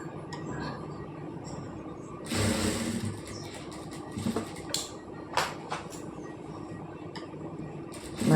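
A sewing machine stitches a blouse in reverse, running in short bursts with a louder stretch in the middle, alongside handling noises and faint background sounds.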